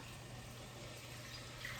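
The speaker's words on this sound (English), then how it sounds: "So I'm gonna add just a little water." Water running steadily into a cooking pan while making chicken korma, a continuous soft splashing pour heard close and alone, without talk.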